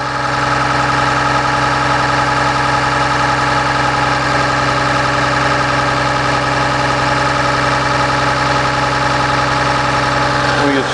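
A Cummins diesel engine idles in a 2009 Blue Bird All American school bus, giving a loud, close, steady rumbling drone that continues unchanged from start to finish.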